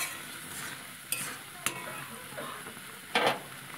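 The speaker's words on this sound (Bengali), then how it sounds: "এইবার ফুটতে শুরু করে দিয়েছে।" A sour fruit mixture bubbles softly in a pan while a spoon stirs it, with a few sharp scrapes and clinks standing out against a steady low simmering hiss.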